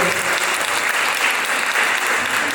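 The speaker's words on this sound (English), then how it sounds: "Can I have a round of applause for the 5 amazing speakers that we have today?" A large audience at a job fair and career summit gives a continuous, even round of applause. The clapping stays loud and full throughout, with no speech over it.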